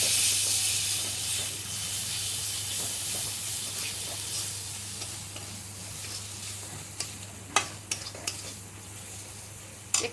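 Potatoes and pointed gourd with cumin and coriander powder are stirred in a hot pan for potol alur dom, a steady sizzle and hiss with a few sharp scrapes and clinks of the spatula near the end.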